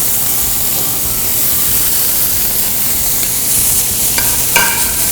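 Shallots sizzling in a hot pan holding fond from seared flank steak, a bright steady hiss with a few clinks of a utensil near the end, no voices.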